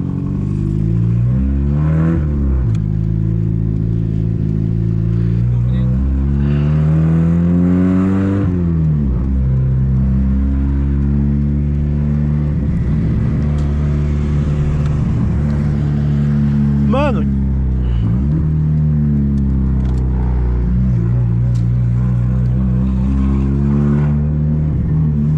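A 1999 Honda Civic with a straight-pipe exhaust revs hard and accelerates at a night car event, its loud engine note rising and falling through repeated pulls, with people talking over it throughout.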